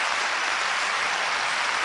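Audience applause following a live song performance, a dense, steady wash of many hands clapping that holds evenly throughout, moderately loud and without voices.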